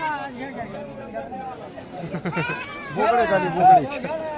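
Goats bleat in wavering cries amid a busy crowd at a goat market in Bodhegaon, with people talking and chattering around them.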